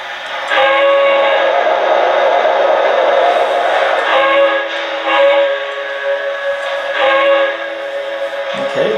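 Whistle of a Lionel Reading Consolidation model steam locomotive with TMCC and Legacy control, a loud, close chime-like steam whistle sounded in several long sustained blasts with brief dips between.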